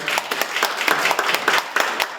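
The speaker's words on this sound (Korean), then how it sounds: "박수 한번 쳐주세요." A modest audience claps at a book talk concert, with distinct, slightly uneven individual hand claps close by over a brief, steady stretch.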